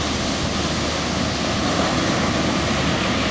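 Steady roar of ocean surf breaking on a Nantucket beach, a continuous broadband wash without clearly separated wave crashes, loud and close with some wind noise and no voices.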